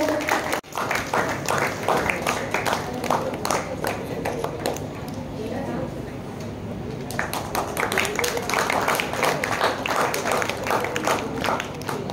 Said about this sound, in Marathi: त्यांच्यासाठी एकदा जोरात टाळ्या होऊन जाऊ दे